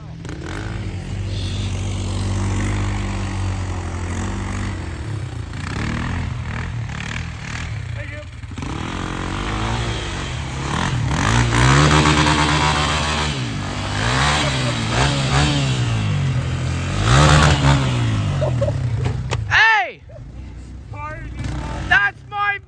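A dirt bike engine revs and bogs while riding through snow, its loud buzzing drone rising and falling with throttle changes over a long stretch, cutting off near the end, with people talking and shouting nearby.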